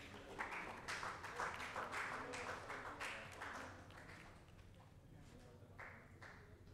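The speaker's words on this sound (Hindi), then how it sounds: "जोरदार तालियां संजय सर के लिए" Audience at an open-mic poetry event applauding for the next performer, a dense burst of clapping that fades to scattered claps and lingering crowd noise.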